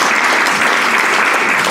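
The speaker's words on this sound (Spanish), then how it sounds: "Regálale un aplauso." A Sunday church congregation gives loud, sustained applause, a thick, even roar of many hands clapping at once with no talk over it.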